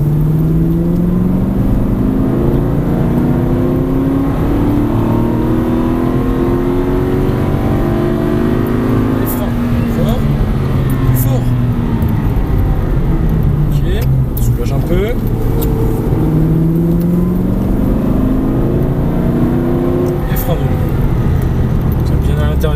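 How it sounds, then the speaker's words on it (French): Aston Martin V8 Vantage at full throttle on a race track, the engine droning loud and close with rising and falling pitch as it accelerates, with instructor talk over it in places. "Plein gaz."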